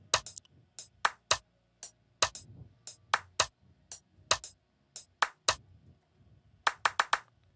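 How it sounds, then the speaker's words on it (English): Sampled hand claps layered with rim shots in a produced Afrobeats-style beat, sharp isolated hits in an irregular pattern with gaps between, loud and dry, no voices. "And then the last clap playing together with the rim also sounding like this."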